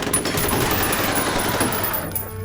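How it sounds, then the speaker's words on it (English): Automatic weapon fire in the game F.E.A.R. rattles in a fast, continuous burst for over two seconds, with bright, clinking shell casings mixed loudly throughout. The fire ends near the close. "the sound of shells hitting the ground is louder than the actual gunshots."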